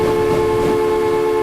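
A steam train in the Transport Fever rail game sounds a steady, loud whistle-like tone that holds evenly throughout, with no talking over it.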